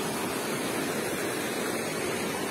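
Steady, close roar of rushing water at Pangabitkabiton Falls in San Jose, Jamindan, Capiz, a broadband wash that holds constant throughout without pauses or voices.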